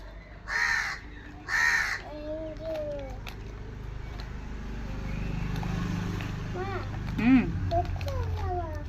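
A crow caws loudly several times, with more cawing later, while people talk nearby and outdoor background noise continues.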